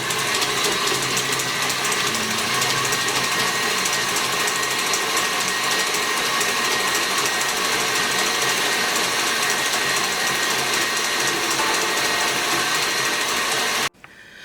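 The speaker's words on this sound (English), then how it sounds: "With the stand mixer, that only takes a couple of minutes" A stand mixer drones steadily as it beats coffee cake batter until creamy, a loud continuous motor whir with a rhythmic mechanical buzz, stopping abruptly at the end.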